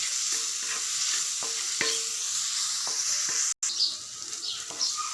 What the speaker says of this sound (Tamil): தக்காளி நல்லா சாஃப்ட் ஆகிற வரைக்கும் நல்லா வதக்கி விட்டுறலாம்.